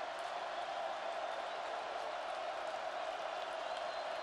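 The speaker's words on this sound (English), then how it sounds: "Crowd coming to life here on third and seven." Football stadium crowd at an NDSU versus UND game, a steady, dense roar of cheering and noise from a large crowd filling the whole stretch without pause.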